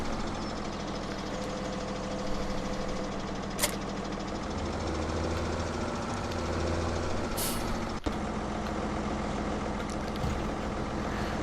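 A tractor engine in the farming game Farming Simulator 17 drones steadily at moderate volume, broken by a couple of short air-hiss bursts and one sharp click.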